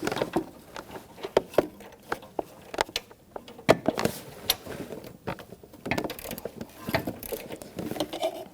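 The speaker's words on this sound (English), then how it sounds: "I will get my O2 sensor socket and tighten it down" Ratcheting socket tightening an O2 sensor into the exhaust manifold of a 1997-2006 Jeep Wrangler 2.4L four-cylinder, a run of close, sharp mechanical clicks with short pauses between bursts.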